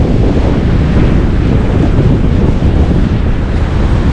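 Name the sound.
waves and wind on Laganas Beach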